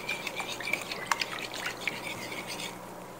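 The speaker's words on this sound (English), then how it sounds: "Make sure you whisk this really good and your eggs are well beaten." Cornbread batter with beaten eggs being whisked in a bowl, a soft continuous stream of quick wet clicks and taps, close and fairly quiet with no talking.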